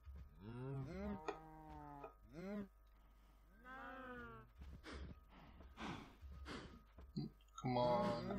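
Minecraft cows moo repeatedly, several drawn-out, nasal lowing calls overlapping one another in close succession, some louder and nearer than others, with no speech.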